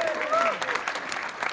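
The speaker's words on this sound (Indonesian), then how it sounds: "Boleh tepuk tangan dulu dong." A stand-up comedy crowd at UI Depok claps briefly, a short burst of applause with a voice speaking over its first half.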